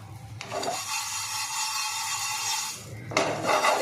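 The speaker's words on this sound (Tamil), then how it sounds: "ஜவ்வரிசி எடுத்து ஒரு பேனில் ஃப்ரை பண்ணிக்க போகிறேங்க." Sago pearls tossed in a dry pan give a steady, close rasping rustle for about three seconds, then a sharper, louder scrape at the end. No one speaks.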